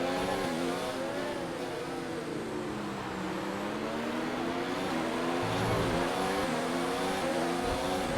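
Formula 1 race car engine in the F1 2019 game at Abu Dhabi: a loud continuous high-revving whine, pitch rising and falling through gear shifts, with brief tire noise under steady engine roar.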